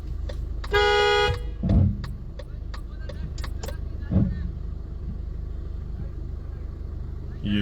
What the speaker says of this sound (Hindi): उनसे ये गाड़ी चढ़ी नहीं जा रही।